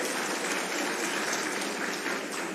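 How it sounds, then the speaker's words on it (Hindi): A dense, steady wash of applause comes from a crowd at a rally marking World Tribal Day in Charama, Kanker, continuous and fairly loud for the whole short stretch with no clear voices. "ताली बजाओ सब जिन, चलो"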